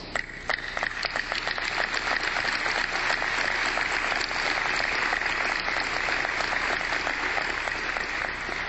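An audience at a UCLA Pauley Pavilion renovation announcement claps steadily for the committee members as they stand, a continuous, fairly loud wash of applause with some sharper individual claps standing out.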